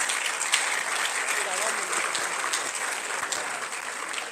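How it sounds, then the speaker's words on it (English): A large hall of new university students at a freshmen orientation claps vigorously and continuously, a dense, even wash of applause filling the room. "I want you to clap like undergraduates."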